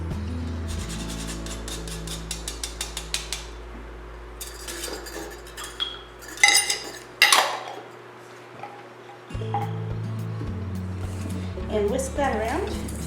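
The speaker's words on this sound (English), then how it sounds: "whisk that around to incorporate that salt and nutmeg evenly throughout the buckwheat flour" Salt and fresh nutmeg whisked into buckwheat flour in a bowl for crepe batter, a quick run of light rhythmic ticks and scraping, then a few louder knocks and clatters, with talk over the later part.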